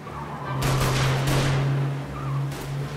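Gunfire in the video game Mafia: Definitive Edition rings out in a burst of several rapid loud shots, with a vehicle engine droning low underneath and another shot near the end.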